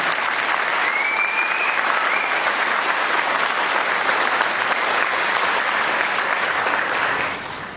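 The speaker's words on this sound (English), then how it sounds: "Once again, one more round of applause, please, for all 7 of our valedictorians." A graduation crowd at a high school ceremony gives sustained, loud applause for the valedictorians, a dense wash of clapping that runs steadily for several seconds before tapering at the end.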